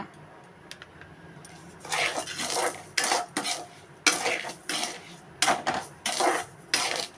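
Coconut candy mixture is stirred in a pan over a low flame, with bursts of scraping and clattering from the spoon against the metal in an uneven rhythm, heard alone.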